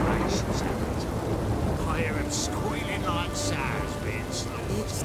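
Rain pours steadily and thunder rumbles low in the storm of The Witcher 3: Wild Hunt, with game voices and sound effects breaking in briefly over the constant wash.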